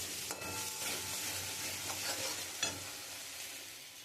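A spice masala with chilli and cumin powder is sautéed in a pan, giving a soft continuous sizzle with faint scrapes and stirring taps, quiet and close, without talk.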